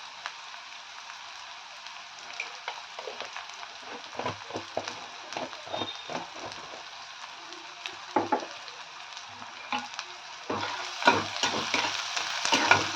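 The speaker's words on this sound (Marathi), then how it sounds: "कांदा व्यवस्थित परतून घ्यायचा त्यासाठी थोडंसं पहिल्यांदा मीठ टाकून घ्या म्हणजे कांदा पटकन तेलामध्ये शिजला जातो" Onion sautés in oil with salt in a pan, a soft steady sizzle broken by rhythmic stirring scrapes that grow louder and busier toward the end.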